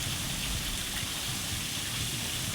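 A small waterfall on a hiking trail in Arkansas gives a steady, broadband rush of falling water, fairly close and continuous, with no voices over it.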